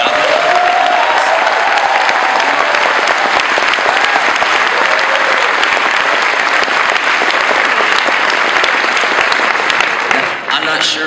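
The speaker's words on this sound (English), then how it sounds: "join me in a round of applause for the amazing PAX East staff" A large audience at a PAX East gaming convention panel claps loudly and steadily for about ten seconds before the applause fades at the end.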